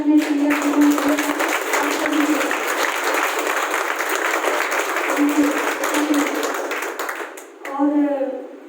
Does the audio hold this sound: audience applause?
yes